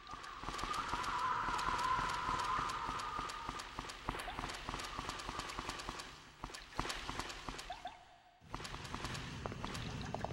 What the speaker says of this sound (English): Good footstep noises.